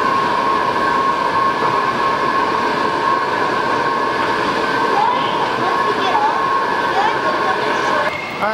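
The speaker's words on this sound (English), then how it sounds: "All right, Maddie, you ready to ride the Metro again?" Washington DC Metro subway train heard from inside, a steady loud rumble with tonal hum throughout and brief squeals near the end, with people talking over it.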